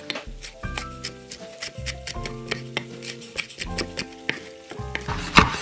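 A knife chops green chillies on a board in a series of light, rhythmic taps, fairly close, with soft tonal background music underneath.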